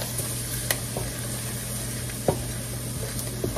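Gravy for smothered chicken cooking in a pan, a steady close sizzle with a few sharp scrapes of a utensil stirring it, alone without speech.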